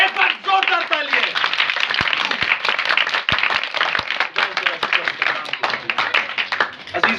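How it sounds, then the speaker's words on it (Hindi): A congregation claps together in brisk, dense bursts during a church gathering on fasting, with a voice heard over the clapping throughout. "एक बार जोरदार तालियां।"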